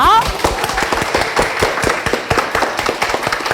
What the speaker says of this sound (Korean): 여러분 한번 큰 박수 부탁드릴게요.